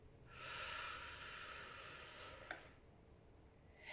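One long, slow, deep belly breath fills most of the moment, a soft airy rush close to the mic, fading out with a small click near the end.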